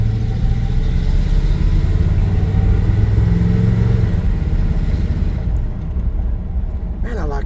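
An old 1978 Chevy C10 pickup truck engine rumbles steadily at close range, a low continuous drone with slight shifts in pitch as it drives.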